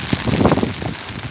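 Rain falls on a beach in Durban, a broad steady hiss mixed with gusty wind buffeting the microphone, close and fairly loud.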